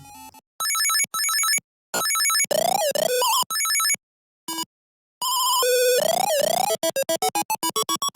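Bleepy Atari 2600 video game sound effects: buzzy tones, sliding pitch sweeps and rapid repeated beeps in separate bursts with short silences between.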